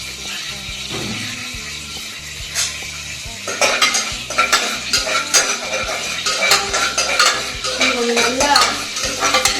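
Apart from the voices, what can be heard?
ingredients frying in pan for peas pulao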